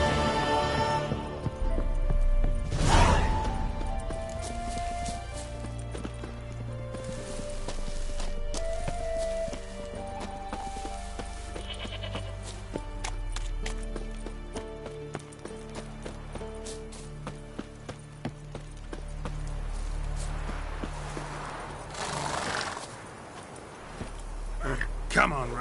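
Roach, Geralt's horse in The Witcher 3, galloping with rhythmic hoofbeats under game music and occasional spoken lines, the steady pounding carrying through most of the stretch.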